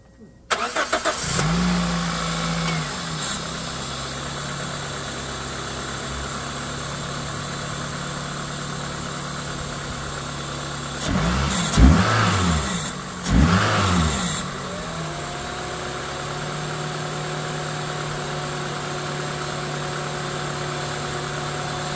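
A car in an ongoing Matrix project cranks and starts up, then settles into a steady close idle, with a couple of brief revs midway before returning to a smooth idle.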